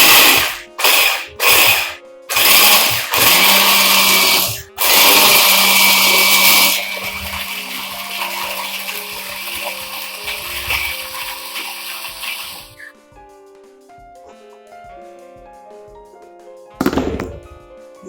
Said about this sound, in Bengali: এবার মিক্সিটা চালিয়ে দিয়ে বেদানাটা পেস্ট করব।